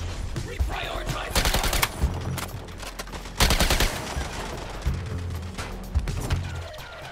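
Bursts of automatic gunfire in the Suicide Squad: Kill the Justice League game, rapid volleys with short pauses and explosive impacts, with character voices talking over the shooting.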